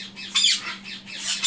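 Parrotlets squawk in short harsh bursts, loud and close, with a steady low hum underneath.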